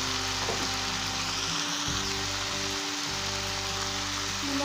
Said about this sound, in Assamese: এতিয়া ইয়াত জিকা কাটি থৈছোঁ এনেকৈ, এইখিনি ইয়াতে এতিয়া দি দিম